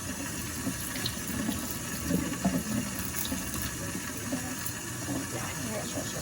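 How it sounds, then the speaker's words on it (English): Kitchen tap running steadily into a sink while someone cuts an onion under the stream, a continuous close splashing wash with a few faint knocks and no clear talk. "Now try and cut it underneath the running water."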